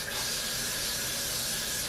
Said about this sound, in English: I'm going to go in with my freeze spray, and I'm just gonna